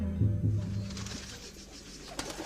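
Domestic pigeons coo in low, soft repeated notes near the start, then a faint fluttering and rustle trails off into quiet.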